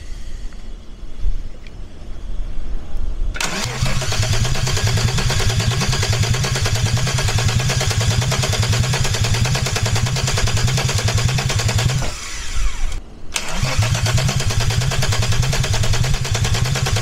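A Peugeot 206 fitted with a VR6 engine cranks on its starter for its first start attempt, a loud, steady rhythmic churning that runs for many seconds with one brief pause partway through.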